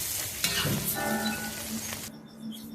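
Onion pieces frying in hot oil for a brinjal masala, a steady close sizzle with stirring scrapes and a brief clink, the frying noise dropping away near the end.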